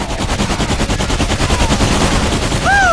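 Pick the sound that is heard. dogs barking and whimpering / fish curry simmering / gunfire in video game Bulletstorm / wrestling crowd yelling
gunfire in video game Bulletstorm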